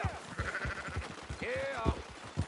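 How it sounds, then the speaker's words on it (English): Sheep bleat loudly and close by in a pen, a couple of wavering calls rising over the shuffle and thump of hooves while someone speaks to the animals. "Fine sheep."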